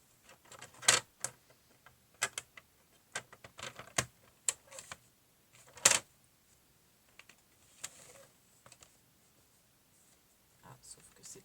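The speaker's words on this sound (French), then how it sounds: "donc là je vais couper." Washi tape packaging being cut by hand for a shaker card, giving soft, sparse snips and paper rustles at close range, scattered irregularly with quiet gaps and a low voice murmuring between them.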